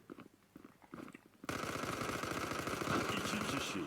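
Rapid, continuous automatic fire from a PP-2000 submachine gun in the mobile shooter Zula Mobile, starting abruptly after quiet footsteps and holding a fast, dense rattle to the end.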